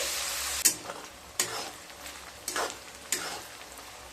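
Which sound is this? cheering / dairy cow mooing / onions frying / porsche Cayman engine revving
onions frying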